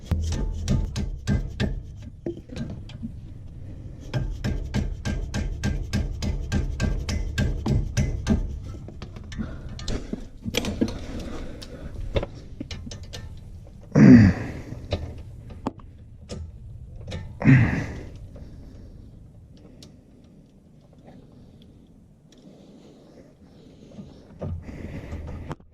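A socket ratchet clicks in quick bursts while loosening a ball joint nut on a 2004 Subaru Outback's front control arm, followed by a couple of louder metallic knocks and quieter handling sounds, close up and without talk.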